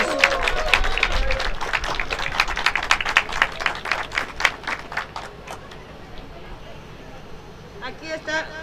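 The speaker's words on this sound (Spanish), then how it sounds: "Un muy grande aplauso para mi queridísima Dina Titus." A burst of applause from a crowd at a Joe Biden campaign event in Las Vegas claps steadily and loudly, then fades into murmuring, with a few scattered claps returning at the end.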